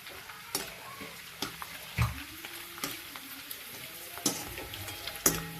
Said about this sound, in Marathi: असं आपण थोडा थोडा मक्याचा चिवडा टाकून असं तळून घेऊ.